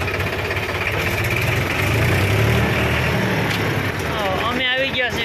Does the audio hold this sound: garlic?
no